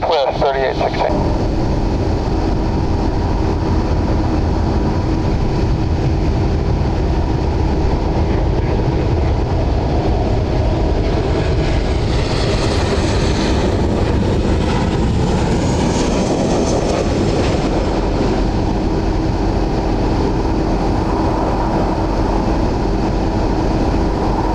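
A Southwest airliner takes off from the runway with a loud, sustained jet engine roar that swells midway and stays heavy throughout, with radio chatter audible over it.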